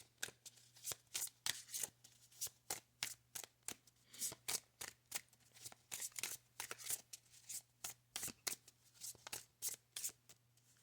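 Tarot cards shuffled by hand in a quick, steady run of crisp riffling slaps, close and fairly quiet, with a low constant hum beneath and no talking.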